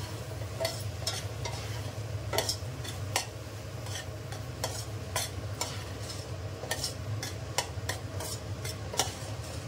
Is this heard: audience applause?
no